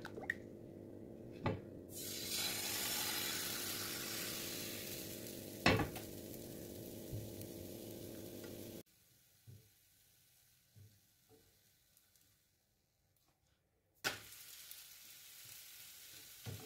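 Thin lacy milk pancake batter sizzles steadily in a hot frying pan, a close, bright crackling hiss that swells as batter hits the pan, then cuts to near silence with faint clicks before sizzling resumes.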